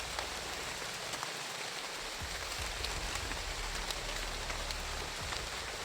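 Heavy rain pours down in a steady, dense hiss of drops striking surfaces, constant and close throughout.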